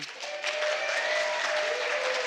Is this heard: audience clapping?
yes